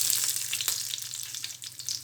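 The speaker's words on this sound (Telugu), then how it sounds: "ఆయిల్ వేడైన తర్వాత తాలింపు గింజలు" Seeds and garlic sizzle and crackle steadily in hot oil in a pan as a tempering, a close, dense spitting hiss with small pops scattered throughout.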